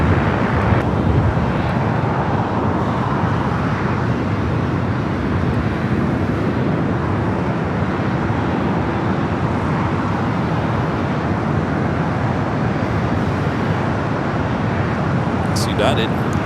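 A jet airliner taking off from runway 25 right at LAX, a loud sustained broadband roar holding steady for the whole stretch, with wind buffeting on the microphone and faint talk underneath.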